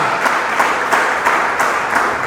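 Steady applause from a church congregation during a service, a continuous wash of clapping with slight rhythmic pulses, moderately loud and close.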